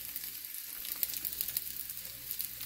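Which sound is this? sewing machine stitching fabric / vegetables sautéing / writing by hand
vegetables sautéing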